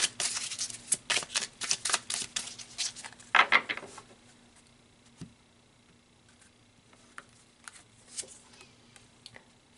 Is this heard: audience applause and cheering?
no